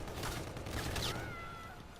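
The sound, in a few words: UDM gun firing in Call of Duty WWII video game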